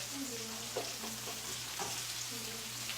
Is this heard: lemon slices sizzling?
yes